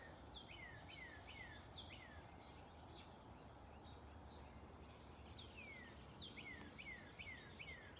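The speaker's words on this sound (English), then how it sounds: "We have a cardinal fighting." Cardinals call again and again outdoors in bursts of sharp, quick down-slurred chirps while fighting, moderately distant, over a steady hiss of insects and ambient noise.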